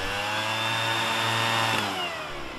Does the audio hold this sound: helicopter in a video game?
no